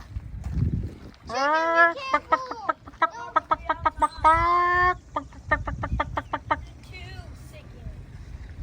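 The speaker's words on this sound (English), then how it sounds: "There's another chicken in the tree." Chickens cluck and squawk outdoors at a state park, with loud harmonic calls in bursts and quicker clucks between, over faint background noise.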